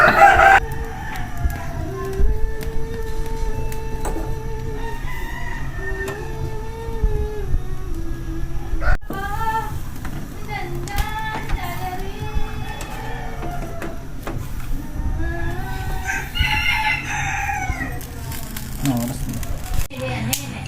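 A native rooster crows several times close by, long wavering calls rising and falling, amid clucking fowl and household background noise, with a voice talking over parts of it.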